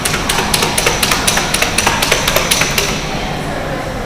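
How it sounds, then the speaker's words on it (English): Metal rings shaken together at a sea turtle feeding spot in an aquarium, giving a rapid series of bright clinking taps for about three seconds over steady background noise, then fading. "So I shake them together and it makes a different noise"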